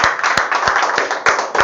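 Audience at a board-exam toppers' ceremony claps to welcome a student: brisk, close, dense hand-clapping with sharp individual claps standing out, brief and loud.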